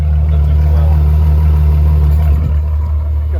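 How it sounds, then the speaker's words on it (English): A V8 supercar engine rumbles with a deep, steady exhaust note at a track, a loud low idle that holds throughout with no voices heard. "Listen to that exhaust note."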